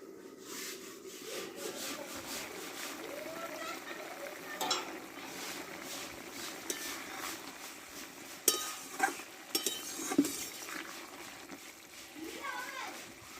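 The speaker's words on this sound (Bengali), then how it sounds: "এবার একটু ঢাকাটা তুলে আমি একটু নেড়ে দেবো" Potatoes for Bengali alu charchori, uncovered after simmering, are stirred in a pan with scraping and clattering spoon strokes over a soft sizzle, a few sharper knocks in the middle.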